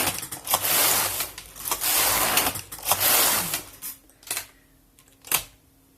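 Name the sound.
Passap knitting machine knitting rows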